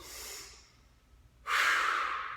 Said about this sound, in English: Breathing strong in through the nose.